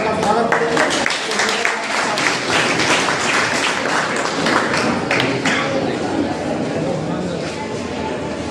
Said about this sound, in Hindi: तो मैं चाहूँगा कि आप लोग जोरदार तालियों के साथ सर का स्वागत करें।